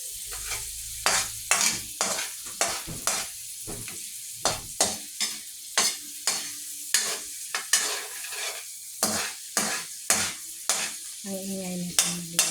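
Food fries and is stirred in a pan, giving a steady sizzle broken by regular scraping strokes of the spatula. The cooking sounds close and fairly loud, and a brief voice is heard near the end.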